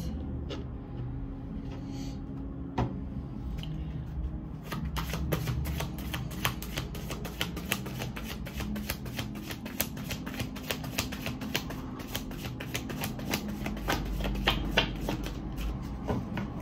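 Tarot cards shuffled by hand, a steady run of quick soft riffling flicks and light slaps that grows busier partway through, close and moderately quiet with no talk.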